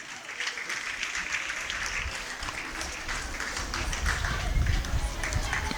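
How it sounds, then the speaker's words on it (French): An audience at a school excellence-day ceremony at Collège Sainte-Anne-la-Sagesse in Port-Bouët applauds steadily, a dense crowd of clapping that holds even and swells slightly toward the end. "Acclamez vous-même."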